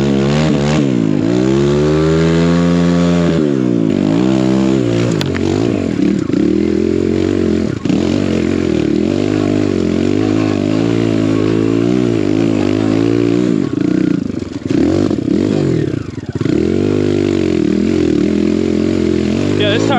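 A 4-stroke enduro motorcycle drifting on snow, its engine loud and close throughout, revving up and down in repeated surges and dips with some mechanical clatter.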